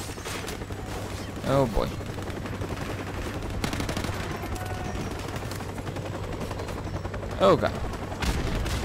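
Gunfire in the Modern Warfare Remastered video game crackles in steady bursts from a busy firefight, with occasional louder shots standing out, while someone speaks briefly over it.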